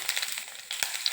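Finely chopped shallots fry in about three tablespoons of hot coconut oil, giving a soft, continuous crackling sizzle with a few brief stirring scrapes, close and fairly quiet.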